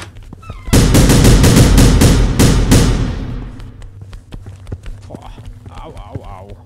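Enemy gunfire in the video game The Final Station, a loud burst of rapid shots lasting about two seconds. Scattered smaller hits and game sounds follow, and a voice talks faintly under it.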